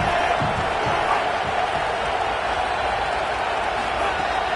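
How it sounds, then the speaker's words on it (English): Home football crowd in a packed stadium roaring loudly and continuously, a dense sustained wall of cheering with no individual voices standing out. "how nice is it to have the home crowd going absolutely bananas?"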